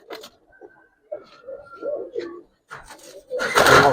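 Silver and coloured Giribaz pigeons coo in a series of soft, close calls with short pauses between them, building to a louder, busier burst of cooing and rustling at the end.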